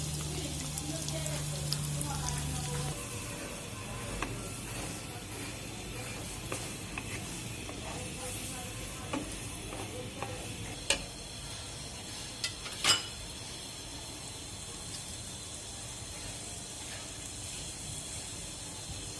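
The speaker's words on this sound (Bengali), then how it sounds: "এখন দিয়ে দিচ্ছি পেঁয়াজ" Chopped onion sizzles in hot oil in a pan just used for frying eggs, a steady close hiss with a few small clicks and pops from the pan.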